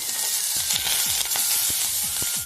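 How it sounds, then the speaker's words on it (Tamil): Gooseberries and curry leaves sizzle and hiss steadily in a hot pan while a spoon stirs them with quick scraping strokes, close by and with no talking. "நெல்லிக்காய் கருவேப்பிலை அடுத்து சேர்த்து நல்லா வதக்கிக்கோங்க"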